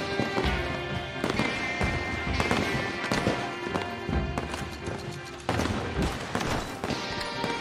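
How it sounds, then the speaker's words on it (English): Fireworks exploding in Red Dead Redemption 2 Online, a string of loud, sharp cracks and bursts in irregular clusters with crackling tails, some overlapping, with no voices over them. "We just keep hearing fireworks over here."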